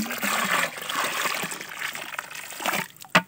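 Antracol fungicide spray mixture poured into a drum in an apple orchard, a steady splashing trickle of liquid that tapers off, ending with a sharp knock.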